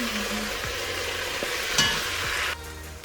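Pepper steak frying in a pot, an even close sizzle with a few utensil scrapes and a brief metallic clink, the hiss dropping somewhat toward the end; no one speaks.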